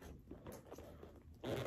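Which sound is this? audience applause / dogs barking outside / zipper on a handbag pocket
zipper on a handbag pocket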